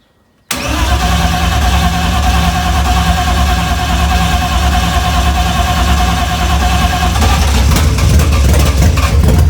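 A BMW M52B28 inline-six swapped into an E30 fires up for the first time, catching abruptly and settling into a loud, close, steady idle with a slight change in tone near the end.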